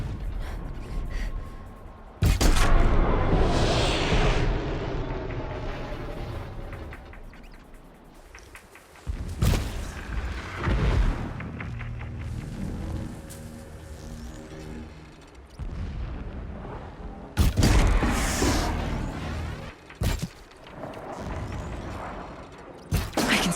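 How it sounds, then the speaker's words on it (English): Deep booms and crashes of distant explosions in Horizon Zero Dawn, arriving in several loud bursts with rumbling tails and mechanical clatter between them, no talking. "Explosions in the distance."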